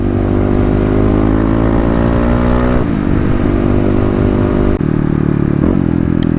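A 2018 EFI Kawasaki KLX351 dirt bike engine revs loud and close, pitch climbing steadily, dropping with a gear shift, then climbing again with rough clattering drone throughout.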